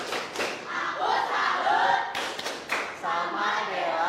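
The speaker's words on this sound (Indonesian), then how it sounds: "Oke, kita berikan tepuk salut untuk Dela." Schoolchildren in a classroom clapping for a student, a rhythmic chant-and-clap salute with a few group claps and voices calling along, close and lively.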